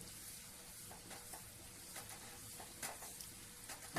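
Birdya (field beans) sizzling as they fry in a pan, a faint, steady crackle with occasional soft stirring scrapes, close but quiet and with no talking.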